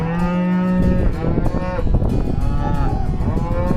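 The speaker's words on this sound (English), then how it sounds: "These cows want to go into another pasture already." Cows in a pasture mooing loudly and close by, several long, overlapping bellows following one another with no break across the whole stretch.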